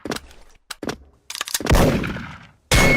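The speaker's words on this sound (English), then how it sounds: "The old sniper noise from the shots" Sniper rifle shots in a PvP arena video game: several sharp, isolated cracks spaced apart, followed by a louder sustained blast with a decaying tail and another abrupt shot at the end.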